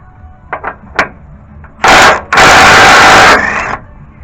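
Power tool, likely an impact or air tool, spinning out a long oil pan bolt on a Chevrolet Silverado, starting with a few light clicks and knocks, then loud close whirring bursts of about a second and a half each.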